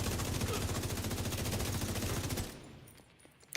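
Rapid automatic turret gunfire in a shooter video game, a loud dense rattle of repeated shots lasting about two and a half seconds before cutting off into quiet.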